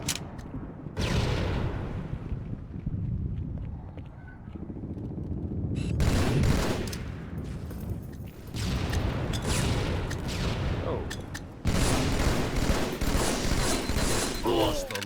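Gunfire in Halo 2 on PC, heard as bursts of rapid shots and booms separated by brief quieter gaps, loud and dense throughout the match action.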